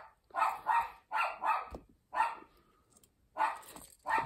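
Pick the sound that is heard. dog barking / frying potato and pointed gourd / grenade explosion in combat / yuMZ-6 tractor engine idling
dog barking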